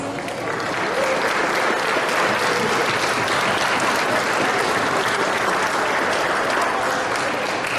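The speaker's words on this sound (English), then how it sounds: "give them a round of applause" An audience at a school athletic awards ceremony gives a round of applause for the club basketball players, a dense, sustained wash of clapping from a large crowd lasting the full stretch.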